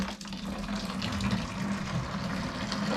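Boiling water poured steadily from a kettle into home brewing gear makes a continuous rushing, splashing gush, close and fairly loud throughout.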